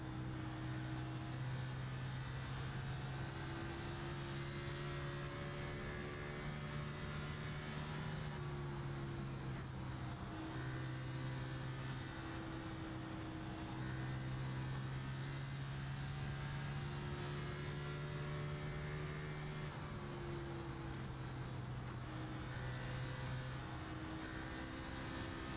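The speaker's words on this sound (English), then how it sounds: "You can hear he does have to blip the throttle a bit" Race car engine heard from onboard in the iRacing sim at Dover, a steady droning tone with brief dips and rises where the driver blips the throttle, continuous and fairly even, with no voices.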